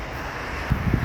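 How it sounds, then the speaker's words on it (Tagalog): Wind blows steadily past a walker outdoors on the way to a night shift, a low, close rumble buffeting the microphone that swells with a stronger gust near the end. "Hangin."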